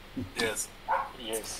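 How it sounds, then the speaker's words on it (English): Pet dog barking nearby, several short yips and barks mixed in with a person speaking over it. "that's my dog barking"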